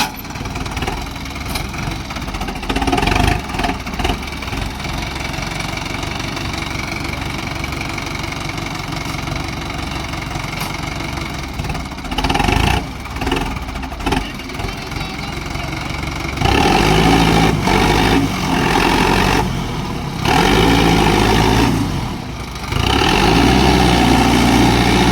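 A Sonalika DI 750 tractor strains uphill, its diesel engine knocking and labouring steadily, close and loud, with harder bursts of revving toward the end.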